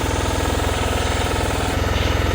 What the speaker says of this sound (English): Let's let her idle for a little bit.